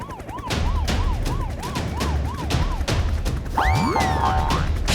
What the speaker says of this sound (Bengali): ঠিক তখনই তারা পুলিশের সাইরেন শুনতে পেল